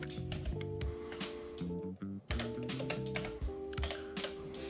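Rapid keystrokes on a computer keyboard while text is typed, a steady run of close clicks under background music with a couple of brief pauses.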